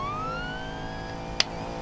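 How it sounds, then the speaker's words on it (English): A police siren in Need for Speed Payback wails with a rising, steady pitch, followed by a brief sharp click near the end. "siren."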